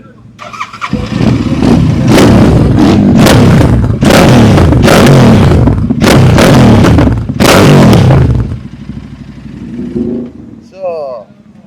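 Motorcycle with a carbon fiber exhaust at a motorcycle festival in Goa, revved repeatedly in loud, close bursts over a rumbling idle before cutting off, with a voice speaking briefly at the end.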